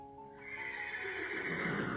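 A nine-year-old Friesian Thoroughbred cross gelding gives one clear, fairly close whinny lasting about two seconds. It starts as a high tone and turns breathy and rough at the end, with no talking.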